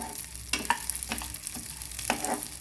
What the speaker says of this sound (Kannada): 1 ಕಪ್ ಹೆಸರುಬೇಳೆ ಹಾಕಿ ಸಣ್ಣ ಉರಿಲಿ ಹುರ್ಕೊತಾ ಇದ್ದೀನಿ.